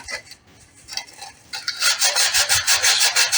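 Sanding the plastic cover of a solar garden light: a short, quiet scrape, then a steady run of fast, rhythmic abrasive strokes, close and clear with no talking.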